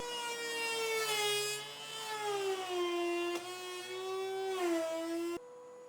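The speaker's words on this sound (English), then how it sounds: "I'll run it through the thickness planer a few more times" A thickness planer drones steadily on cherry wood with a high, whining harmonic pitch that dips and rises, loud and close, cutting off abruptly near the end.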